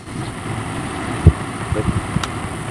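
A repaired Astron electric fan runs on test with a steady, close whirring hum, broken by a soft knock and a few light clicks partway through.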